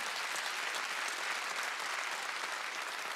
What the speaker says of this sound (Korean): 박수 치려면 지금 하지